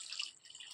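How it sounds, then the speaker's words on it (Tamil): Water is poured into a cooking pot while making a banana stem kurma, a brief faint trickling splash lasting under a second. "இப்போ இது கூட வந்து தண்ணியை ஊற்றிடலாம்"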